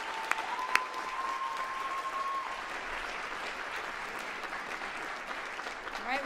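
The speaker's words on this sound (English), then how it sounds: "a big round of applause for our undergraduate students." An audience gives sustained applause for undergraduate students at a university international studies convocation, an even wash of many clapping hands lasting several seconds, with a faint tone and low voices mixed in.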